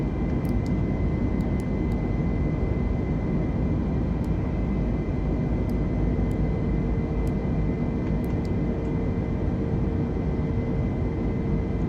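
Airbus A320 climbing toward cruise altitude in a flight simulator game, a steady loud jet engine drone with broadband roar and a faint high whine throughout, uninterrupted and close.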